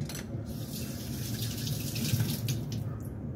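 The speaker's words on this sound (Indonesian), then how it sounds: "ini ati ayamnya kita masukkan ke dalam air bersih ini dan kita bilas" Chicken liver rinsed in a bowl of clean water, with a soft continuous splashing and trickling close by and no voices.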